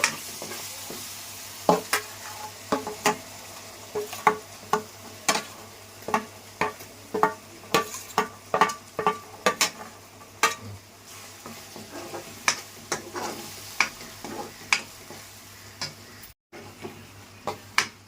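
Leftover masala stuffing paste fries with stuffed brinjals in a pan, a soft continuous sizzle broken by frequent sharp scrapes and taps of a spatula stirring against the metal, close and clear with no voices.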